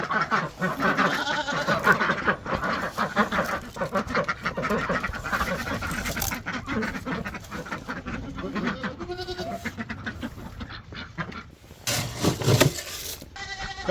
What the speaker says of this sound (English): Hey, little goats.